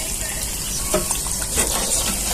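Puris made of wheat flour and pumpkin fry in hot oil, a steady close hiss and bubbling with a few brief stirs or splashes in the oil, heard on its own without talk.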